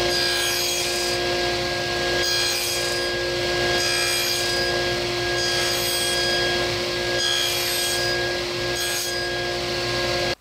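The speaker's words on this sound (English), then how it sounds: "We will now cut each individual fence post so that this little turn 3/8 section here is only 5/8 of an inch long." Handsaw cutting through wooden fence posts for a garden lighthouse, with steady back-and-forth rasping strokes in a regular rhythm, close and fairly loud throughout with no talking.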